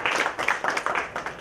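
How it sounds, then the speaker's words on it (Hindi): A bride and groom clap their hands during a Hindu wedding ceremony, producing a steady run of close, light claps through the short moment with no talk. "चलिए ताली बजा दीजिए दोनों।"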